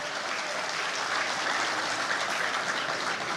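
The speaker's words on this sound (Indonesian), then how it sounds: "Tepuk tangan dulu untuk semua yang hadir di sini." An evening gathering audience in Indonesia applauds everyone present, a dense, even roar of many hands clapping that holds steady from start to finish.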